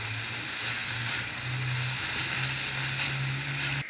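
Noodles with egg fry in a pan while being stirred, giving a continuous hissing sizzle over a low steady hum, with a faint scrape of the utensil now and then.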